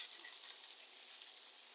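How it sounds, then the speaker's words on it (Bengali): Washed shrimp tipped into onions frying in oil give a soft, even, hissing sizzle that stays steady and fairly quiet throughout, with no voices. "পেঁয়াজটাতে আমার হালকা কালার চলে এসছে, আমি দিয়ে দিব এখন ধুয়ে রাখা চিংড়ি মাছগুলো"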